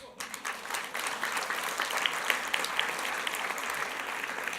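An audience at a public speech breaks into sustained, even applause, a steady mid-distance patter of many hands lasting throughout with a faint voice beneath.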